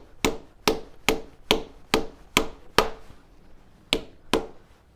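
About nine crisp, evenly spaced hammer whacks strike a motorcycle part while fitting an aftermarket AliExpress component, close and fairly loud, with no speech.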